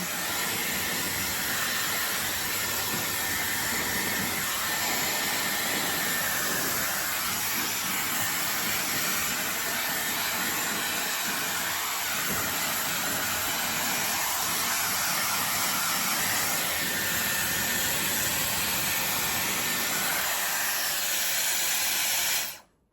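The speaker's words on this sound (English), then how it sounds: "I'm gonna start drying" Dyson Airwrap hair dryer blowing continuously at close range, a steady loud airy hiss with a faint high whine that runs unbroken for over twenty seconds before cutting off.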